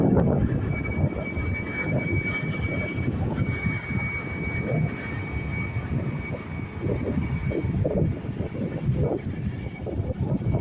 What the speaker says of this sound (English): we have ENT51ZX now beginning its departure. This Boeing 737 operated by Enter Air heading over to Marseille